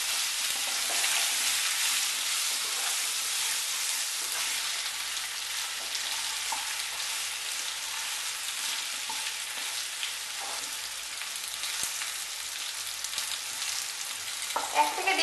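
Pumpkin with chopped ginger frying in a pan, a continuous soft hiss of sizzling oil throughout, fairly quiet, with faint scattered crackles and no voices.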